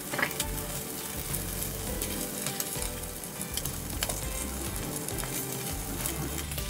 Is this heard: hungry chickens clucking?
no